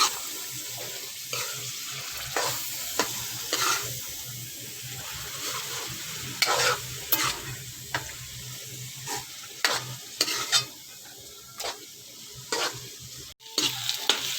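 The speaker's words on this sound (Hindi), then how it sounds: "साग की मैंने अच्छी सी बुनाई कर ली है।" Mustard greens saag cooking in a pot over medium-low heat, a soft sizzle beneath repeated scraping and stirring strokes that come in irregular bursts, fairly quiet and close, with no voices.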